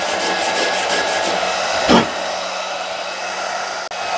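A cheap welding gun melting a 2.5 mm electrode gives a steady, loud buzzing hiss, with a short crackling surge midway before the arc settles back to a continuous drone.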